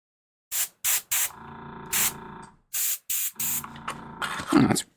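An airbrush sprays primer onto miniatures in short hissing bursts of air, close and fairly loud, with silent gaps between bursts and a few longer sprays, and no talking.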